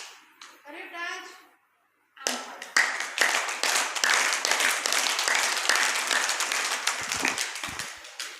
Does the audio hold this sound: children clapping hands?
yes